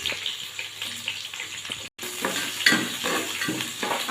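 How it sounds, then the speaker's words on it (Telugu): Long-sliced onions fry in oil with whole spices for a beetroot and green pea curry, a close crackling sizzle stirred with scrapes and clinks, a short silent gap midway, no voices. "పోసు దినుసులు ఫ్రై అయిన తర్వాత ఆనియన్స్ వేసుకోవాలి"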